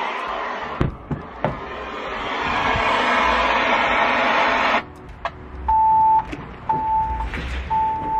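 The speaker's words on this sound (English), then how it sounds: "It's gonna do its little beeping" A loud electronic device hums steadily, then three evenly spaced beeps sound near and clear, separated by short clicks and thumps.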